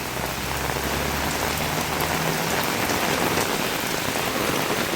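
Heavy, steady rain pours down during sudden flooding in Sri Lanka, a dense unbroken hiss of water striking surfaces, loud and close, with a low rumble fading out in the first seconds and no voices.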